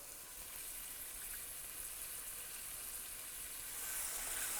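Mutton and onions roast in a pan, giving off a steady, soft, hissing sizzle that grows slightly louder toward the end, with no voices.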